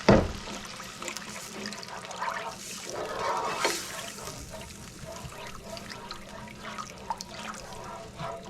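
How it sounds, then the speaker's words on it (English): Water pours and splashes into a cooking pot of Cassareep fish in a gurgling stream, rising and falling over several seconds, with a sharp knock at the start. "So let's add some water."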